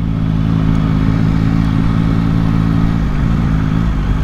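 A 2022 Yamaha MT-09 triple-cylinder engine drones steadily while riding, a loud, close, continuous low hum with no talk.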